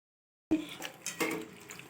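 Bitter gourd leaves are washed in water, heard as a sudden splash after half a second of silence, then soft watery sloshing and a faint clink of a pot, close and fairly quiet, with no talking.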